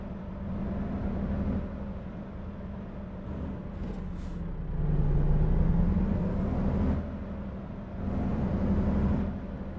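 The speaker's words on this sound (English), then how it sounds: "Yeah, the engine's pretty loud for me." Truck engine in American Truck Simulator, a continuous low diesel drone that holds steady for ten seconds, swelling louder in two stretches as the revs rise, with a brief hiss of air in the middle.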